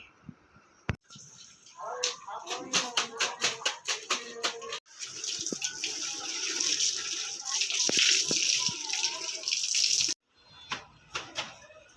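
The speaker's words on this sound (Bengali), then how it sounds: "তো চলো স্নান করে নিই।" Water poured and splashed during a bath, with a run of quick rhythmic splashes, then a longer steady gush of running water that cuts off before a few last splashes.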